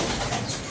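Pigeons cooing in a loft among several breeds, including blue, red and jonsra pigeons, a soft continuous murmur with no voices.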